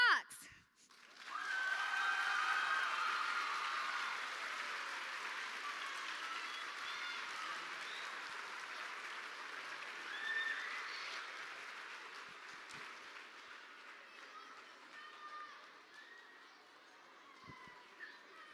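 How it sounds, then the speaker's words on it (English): Distant, fairly faint applause from an audience at a fifth-grade DARE graduation ceremony, steady clapping that slowly thins out over its length. "One more round of applause for her."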